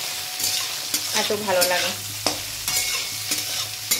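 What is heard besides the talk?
frying soybean chunks in a pan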